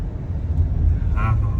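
Three or four vehicles drive ahead on a busy road, producing a steady low engine and tyre rumble that stays close and continuous, with a brief higher whine near the end.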